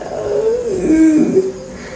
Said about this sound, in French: ça c'est le bruit des geckos à chaque fois le soir et le matin